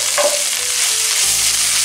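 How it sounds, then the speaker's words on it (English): Soya chunks frying with onions and curry leaves in a pan sizzle steadily and close, with a constant bright hiss and a brief tonal scrape near the start. "Now add the finely chopped soya chunks or meal maker."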